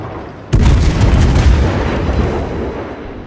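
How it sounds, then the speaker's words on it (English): Torpedoes slamming into a tier 10 battleship in the naval game World of Warships, one loud sudden booming impact followed by a long rumbling roar that slowly fades. "it's hitting the torpedo protection area"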